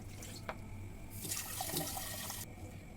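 Water runs from a tap while a blender jar is rinsed during cooking, a soft continuous splash that swells into a louder gush for about a second before easing back.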